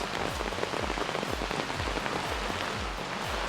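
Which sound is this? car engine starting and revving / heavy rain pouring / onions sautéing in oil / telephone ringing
heavy rain pouring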